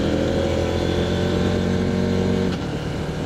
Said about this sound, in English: The bike uses KTM 799 parallel twin engine with a 285 degree fairing order, delivering 95 horsepower in total.